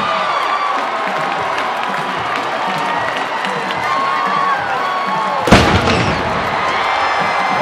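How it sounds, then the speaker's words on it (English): A stadium cannon at a college football game between Appalachian State and Georgia Southern fires one sudden boom after a touchdown, cutting through a constant roar of cheering crowd. "the cannon fires"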